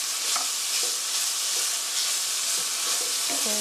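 Carrot, onion, green onion, garlic and other vegetables stir-fry in a hot pan for a pork rice bowl. A constant loud sizzle runs under scattered light clicks and scrapes of the spatula, with no talking.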